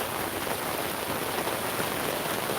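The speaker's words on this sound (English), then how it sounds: "it's raining pretty hard right now" Heavy rain pouring steadily outdoors at Epcot, a dense, loud, continuous hiss with no breaks and no voices.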